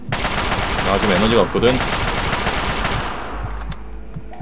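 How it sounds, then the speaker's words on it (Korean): Rapid automatic gunfire rattles in dense, loud bursts in the Fallout 3 video game, then cuts off near the end, while someone talks over it. "나 총알 존나 많아. 나 그냥 막쏠 거야."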